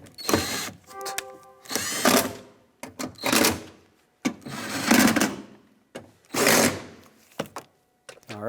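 Bolts are tightened on a power window motor in a 1996-2002 Toyota 4Runner, heard as several short bursts of rapid mechanical clicking and whirring, close by, separated by brief pauses.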